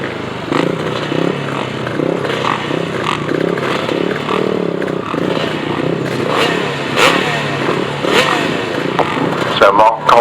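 250cc grasstrack racing motorcycles at the start of a British Championship race, a loud, dense buzz of several engines revving together with rising pitch and clatter, under steady commentary.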